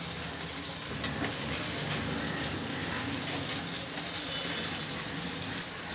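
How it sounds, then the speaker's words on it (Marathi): Stuffed eggplants in Malvani style sautéing in a pan, a continuous close, even sizzle and crackle of oil with no talk. "तर आता ह्यांना मी परतून घेणार आहे."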